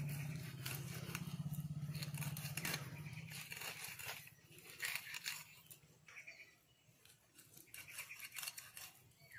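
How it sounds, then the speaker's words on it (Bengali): Snakehead fish being cut into small pieces with scissors for a dhokla dish, giving a series of close, crisp snipping and crunching cuts over a low steady hum, with no talking. "শোল মাছটা ধোকলা বানাবো, সেই জন্য ছোট ছোট পিস করে নেব।"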